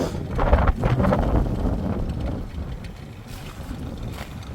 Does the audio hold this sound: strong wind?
yes